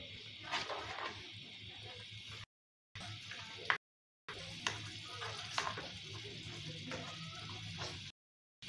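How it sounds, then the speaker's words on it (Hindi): A spoon stirs cream frying in a pan while it is cooked down into desi ghee: a soft, steady sizzle with intermittent scraping, broken by brief silent gaps. "बस इसी तरह से हमने थोड़ी थोड़ी देर बाद इसमें चम्मच चलाना है, फिर इसका घी ऊपर आने लगे।"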